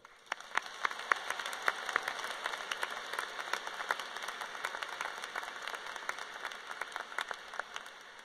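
Sustained applause from a large graduation crowd at Fort Collins High School, many hands clapping in a dense, even wash with a few sharper nearby claps standing out.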